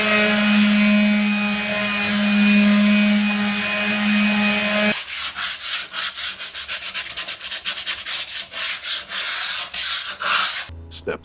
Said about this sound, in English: Sand down the excess stucco with a mechanical sander or sandpaper.